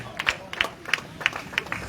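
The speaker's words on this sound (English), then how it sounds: "Please, round of applause" Rhythmic clapping in steady, evenly spaced beats from a crowd celebrating a young man at a gathering, with a murmur of voices underneath.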